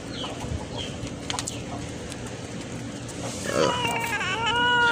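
Backyard chickens cluck and squawk near a person feeding cats, with short clucks scattered through and a louder, drawn-out call toward the end, and someone talking in between.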